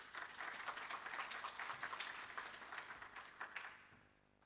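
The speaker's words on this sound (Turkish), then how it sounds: "Alkışlarınızla uğurlamak istiyorum." At a finance-centres conference session, a panel audience claps to see off a speaker, dense steady applause that carries for about four seconds before tapering off, quiet and somewhat distant.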